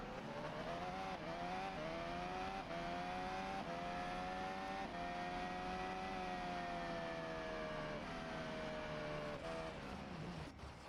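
A Formula One car engine screams at high revs from close onboard at the 2023 Chinese Grand Prix, its pitch dipping briefly at each gear change then climbing again, steady and loud throughout.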